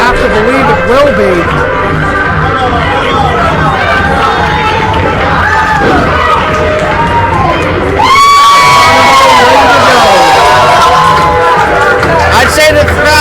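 A 3WA wrestling crowd cheers and shouts continuously, loud and close, swelling sharply partway through, with an announcer talking over the noise.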